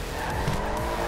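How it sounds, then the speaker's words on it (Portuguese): Car tires squeal and skid continuously in a GTA 5 drift session, a loud, rough screech with engine noise under it lasting about a second. "O carro derrapou reto"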